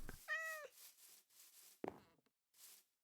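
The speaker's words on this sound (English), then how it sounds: "Cat." A cat meows once, fairly close and clear, followed by a short sharp rustle and a few quieter soft noises.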